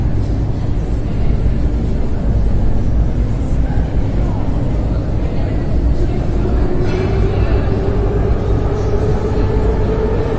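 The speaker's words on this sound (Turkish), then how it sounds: "Mayakovskaya tren istasyonundayım." Underground ambience at Mayakovskaya metro station in Moscow: a steady, loud low rumble of train and station machinery fills the space, with a rising whine from a train toward the end and faint voices underneath.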